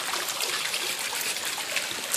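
Water trickles steadily from beneath a rock in a garden pond feature at Las Campanas in Santa Fe, New Mexico, a close, continuous broadband splashing and gurgling with no talk.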